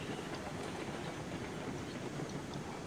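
A steam train rumbles along the rails in Railroads Online, a steady low roll with faint rhythmic clatter that carries on evenly throughout.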